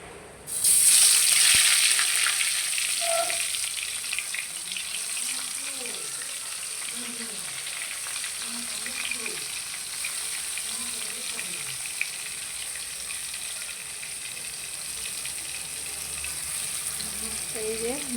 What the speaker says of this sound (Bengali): এখন মাছগুলো ভেজে দিব